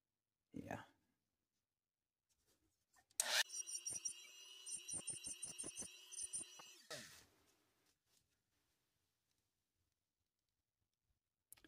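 A cutoff wheel being shaped for a DIY razor saw for scale models gives off a bright, rasping grind for a few seconds, broken by short clicks, with quiet pauses before and after.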